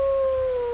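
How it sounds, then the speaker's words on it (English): A wolf howls in the WolfQuest video game, a single steady tone held throughout, loud and close, gliding slightly downward. "so I'm gonna howl."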